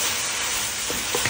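Pad see ew noodles stir-fried in a hot pan, a loud continuous sizzle with soft scraping and stirring movements, brief and without voices.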